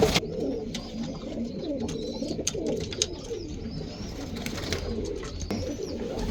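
Roller pigeons coo in a loft, soft repeated throaty coos and rustles close by over about six seconds, with no one talking.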